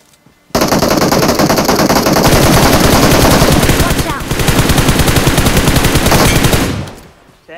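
Sustained automatic gunfire from a battle royale video game, a dense rapid burst rattling loud and close for about six seconds with a brief dip midway before cutting off abruptly.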